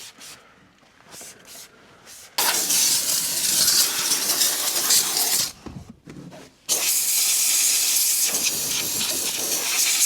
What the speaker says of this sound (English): So the steam keeps circulating, it keeps moving, and it doesn't hover over one area and potentially damage that area.